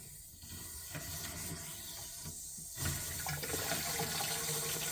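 Water is flushed from newly installed supply lines into a drain, a continuous close hissing rush that briefly dips before surging louder near the end, with no speech.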